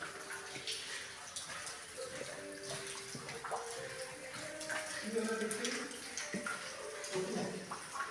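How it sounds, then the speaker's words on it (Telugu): Faint, steady splashing of falling water runs throughout at a distance, with some soft voices talking in the background. "అలా వాటర్ పడుతూనే ఉంది."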